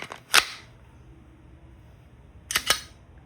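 Two sharp, loud pops from an Umarex Glock 17 Gen 3 CO2 airgun pistol shooting 4.5mm steel BBs, about two seconds apart, with the second shot doubled by a quick echo or impact crack, in otherwise quiet surroundings.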